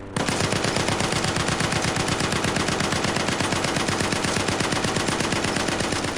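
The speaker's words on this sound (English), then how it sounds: "the shooter burst in and shredded them apart with a heavy machine gun" Heavy machine gun fires a continuous, rapid burst of loud, dense shots that runs unbroken from start to finish with no pauses.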